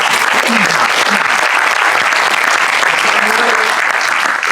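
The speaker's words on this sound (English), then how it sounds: "let's give a huge round of applause for Terry" Loud, sustained applause from a meeting crowd of about 130 to 140 people, cheering on Terry, steady dense clapping filling the whole stretch with faint voices underneath.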